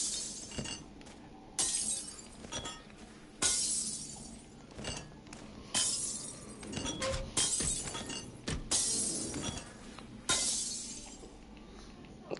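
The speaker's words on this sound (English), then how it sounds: "But you just smashing things?" Glass objects shatter again and again while smashing through a room in the VR zombie game Arizona Sunshine, sharp crashes arriving every second or two, loud and close, with no talk over them.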